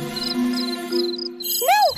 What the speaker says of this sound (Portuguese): Não, não! Venham aqui, grilos fujões!